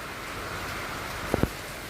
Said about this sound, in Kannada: ಸಿಕ್ಕಾಪಟ್ಟೆ ಮಳೆ ನೋಡ್ರಿ ಒಂದು ಎರಡು ಮೂರು ದಿನ ಹೊರಪಾಗಿತ್ತು ಮಳೆ ಈಗ ಮತ್ತೆ ಶುರು ಆಗಿಬಿಟ್ಟೈತಿ